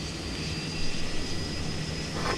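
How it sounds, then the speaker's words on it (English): The APU of an iniBuilds A350 airliner spools up in a flight simulator, giving a steady, loud turbine whine and roar that holds level for the whole stretch. "We can listen to the APU spooling."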